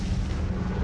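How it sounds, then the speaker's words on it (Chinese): Aerial bombing in wartime Guangji, with Japanese aircraft striking from morning to night: a dense, continuous low rumble of blasts fills the moment, loud and heavy throughout with no pauses or voices. "日军出动飞机，从早到晚轮番轰炸广济"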